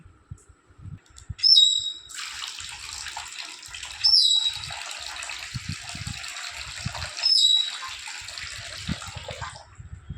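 A pet parrot bathes in a bowl of water, splashing in three bursts of fluttering while short, sharp chirps ring out between them, close and fairly loud over a quiet room.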